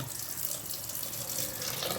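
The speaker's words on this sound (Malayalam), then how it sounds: "നമ്മളതിൻ്റെ തെളിവെള്ളം മാത്രമായിട്ട് ഊറ്റിക്കളയാണ്" Clear water poured off fermented maida settled for Kozhikode halwa, a steady close splashing pour that runs continuously for the whole stretch without any voice.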